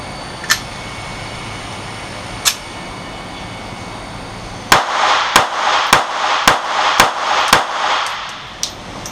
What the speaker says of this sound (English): we are going to test fire the 85 grain Extreme Penetrator round out